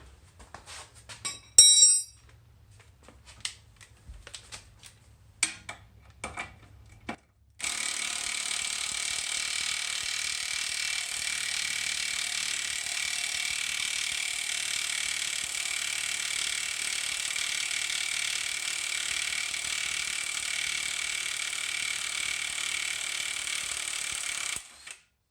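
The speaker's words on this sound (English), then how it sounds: "now we just got to get this nut on the bottom here off" Metallic clinks and tool clatter while the bottom nut of a tie rod end comes off a VW MK4, then a long, steady, hissing mechanical whir that runs close and even to the end.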